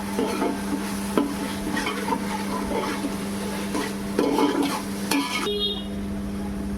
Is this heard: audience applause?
no